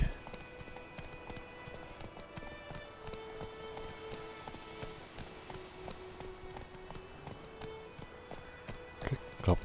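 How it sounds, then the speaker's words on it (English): Horse hooves clip-clopping in the video game The Witcher 3, a faint, steady, even-paced trot of hoof taps running throughout with no talking. "Clop, clip, clop, clip, clop."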